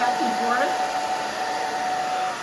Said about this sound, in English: So go back and forth with your blow dryer and your fingers.